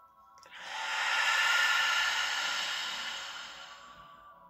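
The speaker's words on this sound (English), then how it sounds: "Let's breathe first." One long, deep breath, drawn in and slowly released, swells into a soft breathy hiss and then fades gradually, close and alone in quiet surroundings.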